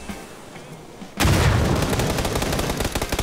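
PUBG video game gunfire: after a quiet second a sudden loud burst of rapid automatic shots starts and keeps going close and dense, with sharp repeated cracks to the end.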